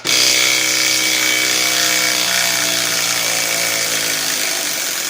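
DeWalt 12V Xtreme cordless impact wrench running, a loud, close, sustained high-pitched motor whine with a steady rapid hammering buzz that holds for about five seconds without pause.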